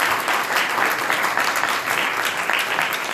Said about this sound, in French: Je vous propose d'applaudir pour remercier nos experts et nos témoins.